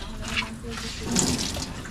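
Water runs and splashes steadily, like rain pouring or a tap flowing, with faint muffled voices in the background.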